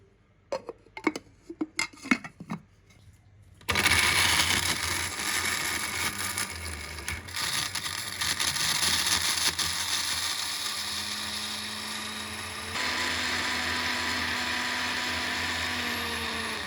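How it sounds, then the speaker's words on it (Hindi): An electric kitchen grinder pulverises dried ginger (sonth) into powder, a loud steady whirring grind that starts abruptly after a few sharp rattling taps and runs continuously, dropping slightly in pitch partway through. "इसमें हम थोड़ी थोड़ी अपनी सोंड पीस लेंगे"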